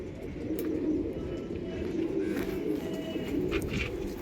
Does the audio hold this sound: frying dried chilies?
no